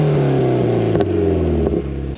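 A Mitsubishi Evo engine holds against its two-step launch control near 5,500 RPM, a loud, close, steady droning buzz with rapid staccato crackle lasting about two seconds.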